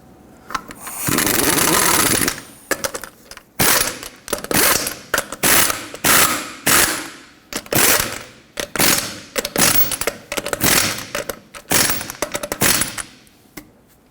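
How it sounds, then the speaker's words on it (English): An impact or ratchet wrench tightens the lug nuts on a 1995-2004 Toyota Tacoma wheel. One long, loud buzzing run is followed by many short, close rapid bursts, with no talking. "Start on all 5 of your lug nuts. Bottom them out in a cross pattern, and then also in a cross pattern, tighten them to 83 foot-pounds."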